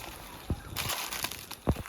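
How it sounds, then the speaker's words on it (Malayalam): Water sloshes and splashes near an outdoor cooking fire where yam is being boiled, with two short, close splashes standing out over a steady background. "വെള്ളം തെറിച്ചമ്മ."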